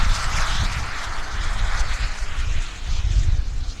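An FLS Microjet, a small jet aircraft coming in to land at an airshow, produces a steady loud jet roar with wind rumble, sustained throughout without pause.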